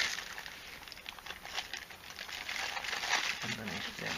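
A plastic bag is crinkled and handled during a fiberglass clone trooper upper arm armour build, close soft crumpling and rustling that grows slightly louder toward the end.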